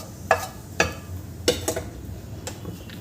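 Bay leaf dropped into hot oil in a pan while cooking spinach soup, giving a few short crackling sizzle bursts spaced about half a second apart over a quiet background.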